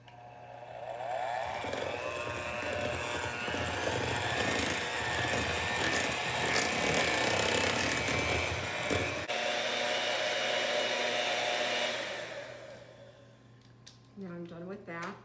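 An electric mixer whirs loudly and steadily, beating butter into a rich guava passion cake batter, then cuts off and a voice speaks briefly near the end.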